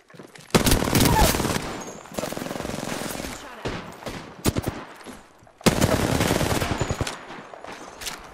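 Video game gunfire, with loud sustained bursts of automatic shooting separated by short gaps and single sharp cracks, intense and close.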